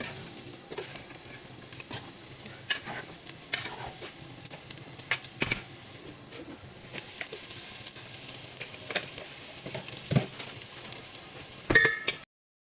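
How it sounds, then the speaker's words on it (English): Chopped garlic stir-frying in hot oil in a pot or pan, a steady low sizzle with scattered crackles and the odd scrape of stirring, fairly quiet and close, no talking. "add oil and chopped garlic and stir fry it until it gets golden brown"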